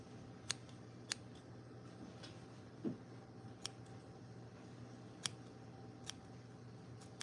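Small scissors snip excess material while trimming a handmade fishing fly, producing sparse, sharp clicks spaced irregularly over a quiet, faintly humming background, close and alone without talk.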